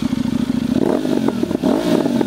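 KTM Duke 990 motorcycle engine idling and revving with a loose mechanical rattle, close and fairly loud, with a short rise in revs partway through and no speech.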